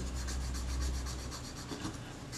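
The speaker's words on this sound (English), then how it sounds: "I want to use the solvent to get it up, the last remnants of it off, if I can." Steady rasping rub of a cloth wiping old adhesive off a Retina IIIS camera body with solvent, a continuous close scrubbing texture with a faint rhythmic back-and-forth pulse.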